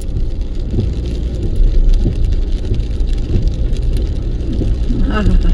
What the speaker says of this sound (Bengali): বৃষ্টি পড়ছে রাস্তা দিয়ে